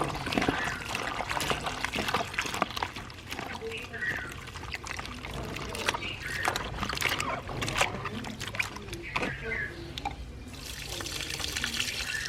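Salted bitter gourd is washed under running water in a sink, with continuous splashing and pouring close by and someone talking intermittently over it.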